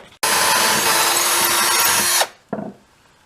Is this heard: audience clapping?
no